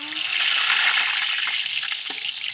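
Food fries in hot oil over a wood fire in a village, giving a dense, steady sizzle that stays loud and close, with a few faint pops and clatters.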